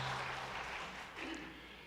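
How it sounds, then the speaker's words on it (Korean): A church congregation applauds to welcome new members during a Sunday worship service, a moderately loud wash of clapping that fades slightly toward the end, with no speech over it. "자리에서 일어나시면 큰 박수로 환영하겠습니다"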